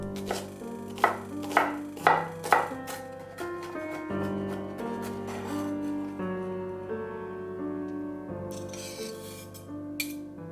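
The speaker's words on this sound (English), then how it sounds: "Chop them with the shallots." Knife chopping crushed, peeled garlic cloves together with shallots on a board, a few distinct close knocks at the start and then fainter cutting under steady tonal background music.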